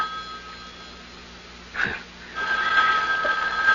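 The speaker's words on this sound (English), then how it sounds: "Answer? The phone." A telephone rings in a radio mystery drama, with two bursts of a bright electronic ring against quiet room tone and a brief low thump between them.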